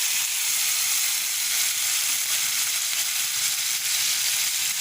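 Yogurt stirred into chicken masala frying in a pan, giving a steady, even hiss and sizzle throughout with no voices.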